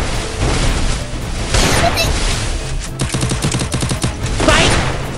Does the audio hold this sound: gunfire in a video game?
yes